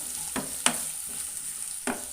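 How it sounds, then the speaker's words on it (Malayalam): Steady sizzle of masala sautéing in oil left from frying fish and prawns, with a few sharp scraping stirs of a spatula against the pan. "ഇനി നന്നായിട്ടൊന്ന് വഴറ്റിയെടുക്കാം"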